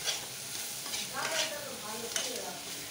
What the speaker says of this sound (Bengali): দিয়ে এবার এটাকে হালকা করে একটু নেড়ে চেড়ে নেবো